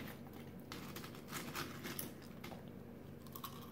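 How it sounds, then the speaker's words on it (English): Potato chips crunched close to the mic in a steady run of crisp bites and chewing, one after another, over a low hum. "I'm sure everyone loves to hear you chew."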